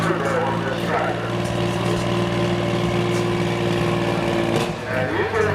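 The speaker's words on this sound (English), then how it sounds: "you can hear it making that diesel talk" A John Deere tractor fitted with a single turbo pulls under heavy load, its diesel engine droning loud and steady with a strong low hum and a brief dip in power near the end.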